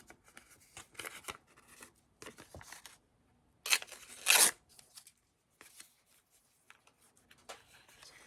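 Scissors snip through paper clippings in short, quiet bursts of crisp cutting and rustling, irregular with small pauses, and one louder, sharper run of snips partway through.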